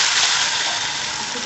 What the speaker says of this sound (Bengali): এবার আমি আমার বানিয়ে রাখা পেস্টটাকে এর মধ্যে অ্যাড করে দেবো।